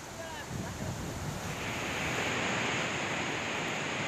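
The flooded Godavari river runs high and fast, a dense broadband roar of rushing water with wind buffeting the microphone, steady and loud throughout.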